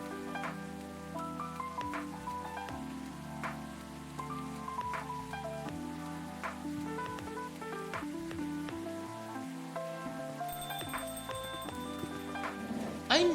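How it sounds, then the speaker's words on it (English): Steady rainfall patters on surfaces in the video game Coffee Talk, a continuous soft ambient wash beneath gentle music, with no talking. "I miss the rainy ambience of this place."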